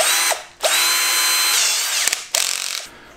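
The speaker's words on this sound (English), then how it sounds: "Our lovely little Ozito electric screwdriver, which also acts as a drill." An Ozito electric screwdriver drill whines loudly at close range in three bursts, spinning up and down with short pauses between and a brief rattling clatter as it slows toward the end.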